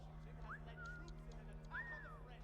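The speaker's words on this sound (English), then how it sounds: "I don't know how he's whistling despite being in this haystack." A character whistles in the Assassin's Creed III Remastered video game, a few faint short whistled phrases rising and gliding, heard quietly over a low background hum.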